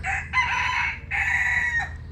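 A rooster crows twice, loud and fairly close, each call a long strained cry with a short gap between them.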